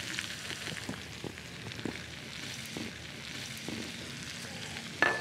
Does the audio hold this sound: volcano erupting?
no